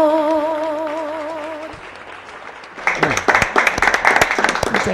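A sung note fades out, then an audience at a televised folk peña in Salta breaks into applause after the song. The clapping is dense and lively and carries on to the end.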